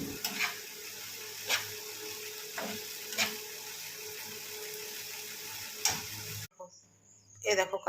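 A pan of curry heats on the stove, giving a low steady simmering sizzle broken by a few brief scraping stirs before it cuts off near the end.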